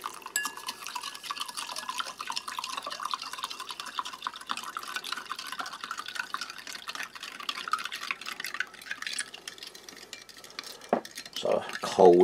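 A spoon clinks and scrapes steadily against a cup as lemon tea granules are stirred into cold water, the tinkling continuing throughout with a few sharper knocks near the end.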